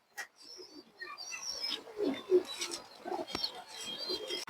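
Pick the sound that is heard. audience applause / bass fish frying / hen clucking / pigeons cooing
pigeons cooing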